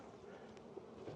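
Honey bees in an opened hive hum as a low, steady, fairly quiet buzz of many insects throughout, with no speech.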